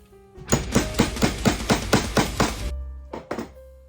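Around ten rapid, evenly spaced hammer strikes setting metal eyelets into fabric ring out up close, then stop, followed by a couple of lighter taps.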